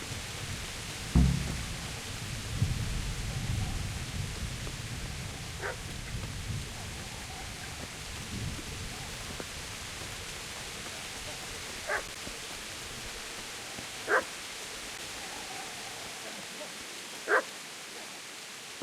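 A dog barks in Kingdom Come: Deliverance, four or five short, sharp barks spaced several seconds apart over a low, quiet ambient bed, fairly distant and modest in volume.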